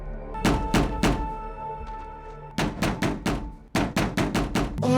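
A door sounds with a series of hollow thunks, first a pair of quick knocks, then two bursts of rapid repeated banging, loud and close with no talk over them.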